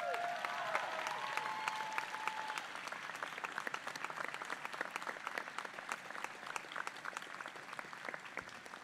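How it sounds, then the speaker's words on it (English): A university commencement crowd claps for a student speaker, broad and fairly distant applause spread through a large outdoor or hall space, continuing steadily with scattered sharper individual claps. "Can we give her another round of applause?"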